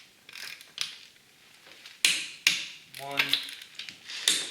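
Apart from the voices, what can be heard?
lug nuts loosened with ratchet during brake job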